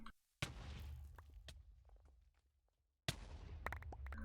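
A cannon fires in a Minecraft Race For Wool match, a sudden loud blast that rings out and decays over a couple of seconds, followed after a pause by another burst of sharp cracks and impacts.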